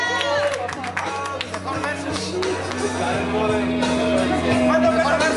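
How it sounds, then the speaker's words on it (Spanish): Crowd at a shuffle dance tournament in Puebla claps and cheers steadily while music with sustained tones plays and voices chatter underneath. "Aplauso para Tony, venga"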